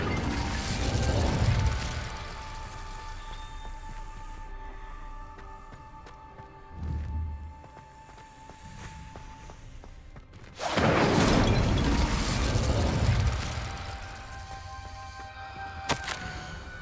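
The Incendio fire spell is cast in the Hogwarts Legacy video game, with a loud whooshing magical burst that fades, then a second strong fiery surge later, over low background game sounds.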